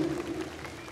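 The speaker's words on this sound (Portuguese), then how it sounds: "Palmas para a nossa Arlequina." Audience clapping for a Harley Quinn cosplayer at an anime convention cosplay parade, a brief dense burst of crowd applause with a faint voice over it.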